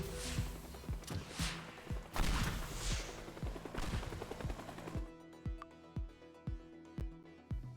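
Gunfire in the destruction game Teardown, rapid repeated shots in a steady run of thumping reports, then spaced single shots with crumbling debris between, fairly quiet and with no talking.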